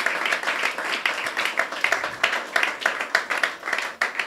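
A church congregation applauds in worship, dense, lively clapping from many people that holds steady throughout with brief rhythmic surges, fairly loud and close.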